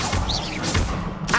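An Incendio fire spell is cast in a Hogwarts video game, producing a short whooshing burst with a rising and falling sweep. A second fiery blast flares near the end, loud and close.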